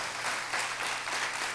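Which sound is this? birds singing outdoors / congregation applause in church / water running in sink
congregation applause in church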